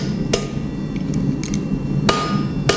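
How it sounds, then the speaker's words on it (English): A hammer drives a steel chisel while a rasp-hawk is forged in knifemaking: three sharp metallic strikes, close and loud, spaced unevenly over a steady workshop hum. "Pound it down. Drive that in."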